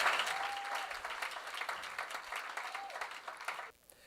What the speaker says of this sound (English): So for that, we must give a round of applause.